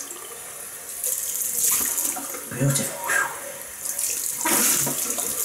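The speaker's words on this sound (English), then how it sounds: "Rinse. Cold water again." Cold tap water running into a bathroom sink for a rinse after shaving, splashing in bursts and surges close by, with someone speaking briefly over it.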